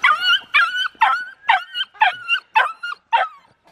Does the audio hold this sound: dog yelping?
yes